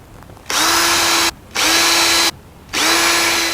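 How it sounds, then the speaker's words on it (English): A power drill whirs loudly in three bursts at the edge of a house, each spinning up and running steadily for about a second, separated by short pauses. "Take our drill."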